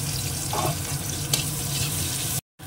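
Chopped onions hitting hot oil in a pan, giving a steady broadband sizzle that stays fairly loud and even throughout, with a brief stir partway and a sudden cutoff near the end.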